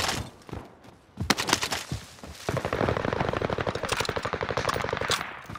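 Video game gunfire: a few loud single shots, then a sustained rapid automatic burst of close, evenly spaced cracks lasting several seconds, with no talk over it.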